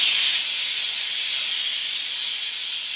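A GRANT'S 1200-watt handheld steam cleaner, unplugged, keeps releasing its remaining pressure as a loud, steady, close hiss of steam that fades only slightly over three seconds.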